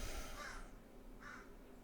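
A crow outside a window caws twice, two harsh, evenly spaced calls heard faintly at a distance over a steady room hiss.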